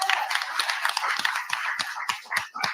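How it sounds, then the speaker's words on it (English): Scattered hands clap at a board meeting, a modest, fairly quiet round of applause that thins into a few separate, distinct claps near the end. "For everybody, give them a round of applause."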